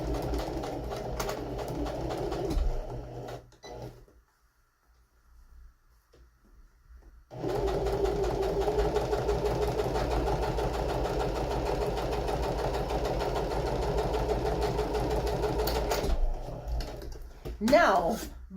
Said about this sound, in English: take it to the sewing machine and stitch